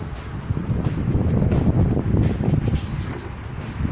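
Steady wind blowing outdoors beside the Moselle river at a night carp-fishing spot, a loud continuous rushing roar with buffeting gusts against the microphone throughout.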